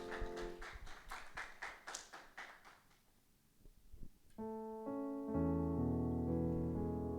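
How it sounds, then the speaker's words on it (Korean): Youth worship congregation claps in a steady rhythmic beat for a few seconds, faint and somewhat distant, then the clapping fades as sustained keyboard chords and music swell in. "영광의 박수 올려드립시다."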